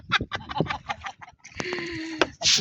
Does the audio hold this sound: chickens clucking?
yes